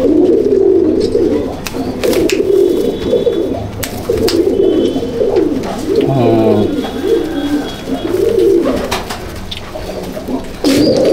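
Teddy pigeons coo steadily in a loft, a dense, continuous chorus of low rolling coos from several birds close by, with brief chirps and flutters mixed in and faint voices in the background.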